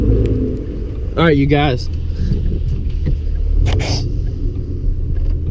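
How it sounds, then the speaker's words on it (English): A car with stretched tires tries to accelerate on ice and snow during a Louisiana snowstorm, its tires spinning. A deep engine rumble rolls underneath the whole time, and someone speaks briefly near the start. "when I press the gas, my tires are spinning"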